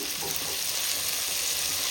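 Ingredients for a no-onion, no-garlic temple-style chole masala frying in a pan until reddish, giving a steady, dense hiss of sizzling oil throughout, fairly close and without voices.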